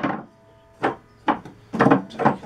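A homemade table saw with a homemade fence cuts through wood in several short bursts, each pass a loud rasping burst separated by brief quieter gaps.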